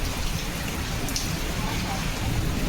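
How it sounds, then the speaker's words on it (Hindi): Steady rain falls during a storm at Marine Drive in Mumbai, a dense continuous hiss of drops on surfaces filling the whole stretch at an even, fairly loud level with no voices. "दोनों फिर देखें तो बारिश हो रही है,"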